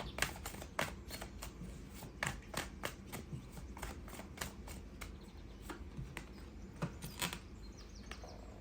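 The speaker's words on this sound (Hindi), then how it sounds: "Okay, let me take another card. एक और कार्ड हम पिक करते हैं।" Tarot cards are shuffled and picked at close range, giving a steady run of soft papery flicks and riffles with sharper card snaps scattered throughout, alone without talk.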